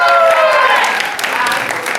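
Applause from the crowd at a ball, mixed with whoops and cheering voices over music, loud and busy, tapering briefly midway before picking up again.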